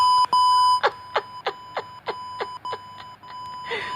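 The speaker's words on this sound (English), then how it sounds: "There go my alarm again." An alarm clock goes off with a steady tone, then a string of sharp, evenly spaced beeps repeating about three times a second. The beeps are loud and close, with no talk over them.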